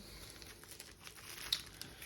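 A clean plastic evidence bag is handled by gloved hands, giving quiet, close crinkling and rustling with a few sharper crackles, faint and without speech.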